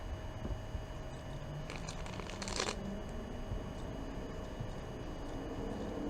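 Faint rustling and a short flurry of tarot card shuffling, heard against a steady background hum.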